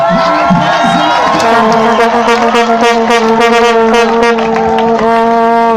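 A church congregation at a Christian gathering claps and ululates in praise of God, with loud, sustained, wavering high trills over crowd noise throughout.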